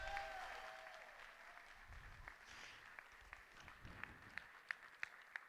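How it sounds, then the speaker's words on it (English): Applause at a St. Anne's Family Services gala for staff and volunteers, a quiet, distant patter of clapping across the room that thins into a few sharper, louder claps near the end. "How about a round of applause to the St. Anne staff, our volunteers,"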